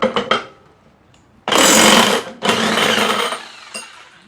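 Power tool spinning a 3/4 inch nut off a lawnmower flywheel: two loud, harsh whirring bursts close by, with a few faint clicks before and after.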